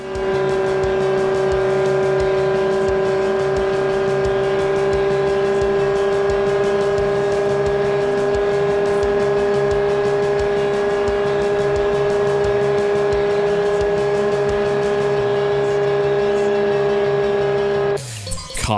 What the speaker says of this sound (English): I have to see if I could keep in the slipstream of the Viper here.